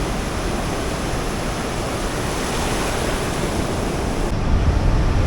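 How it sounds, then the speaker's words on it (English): Ocean waves crash and surge continuously at the Chin Beach sea caverns on Vancouver Island's Juan de Fuca Trail, heard close up from a rock as a loud, dense roar that swells slightly toward the end. "I want to get a closer up shot of these nice waves coming in here."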